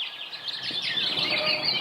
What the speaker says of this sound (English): like birds in the forest in the morning time